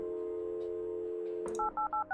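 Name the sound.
phone number being dialed in Kathy Rain video game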